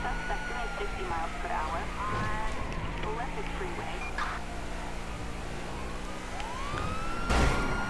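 Police car siren in GTA V wails steadily over a dense bed of traffic and game noise, with a louder burst near the end, heard throughout the chase.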